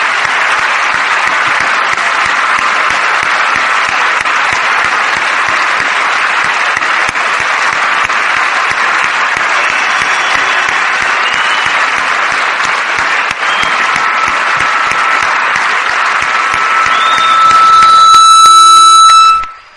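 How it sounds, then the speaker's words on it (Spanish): A standing crowd at a success-story event bursts into loud, sustained applause that holds steady for the whole stretch, with a shrill horn-like tone rising over it near the end before everything cuts off. "Vamos a darles un fuerte aplauso"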